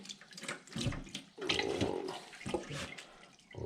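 Cold water streams from a sink tap over cooked noodles during rinsing, a steady close splashing rush that shifts in tone as the noodles are moved under the flow.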